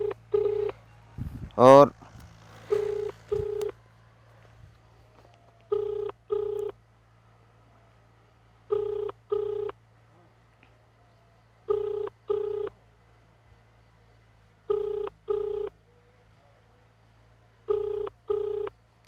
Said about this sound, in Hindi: एसडीएम साहब को फ़ोन लगा दिया भैया।